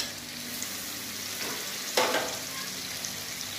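Chopped tomatoes dropped into a hot pan for aloo dum, a continuous frying hiss with a sudden louder sizzle and clatter near the middle before it settles back.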